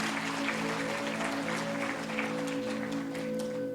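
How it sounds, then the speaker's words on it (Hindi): An audience applauds qawwali singers at a Lucknow stage performance with dense, steady clapping that fills the whole stretch. A sustained musical drone hums beneath it. "एक बार जोरदार तालियां इस कवाली को गाने के लिए।"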